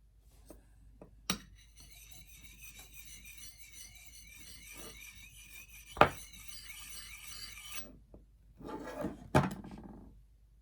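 A kukri's steel edge scrapes across a jadeite sharpening stone in quiet, rasping strokes, with a few sharp taps and clicks in between, close and alone.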